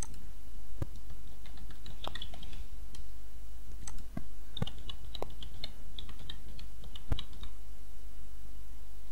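Keyboard typing on a computer while entering an old router username and password: scattered soft key clicks in short bursts, close and fairly quiet, with no talking.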